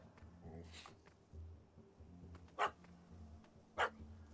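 A puppy in The Witcher 3 barks at a cat that has fled up a tree: two sharp, loud yaps a second apart, over low ambient rumble and faint background murmur.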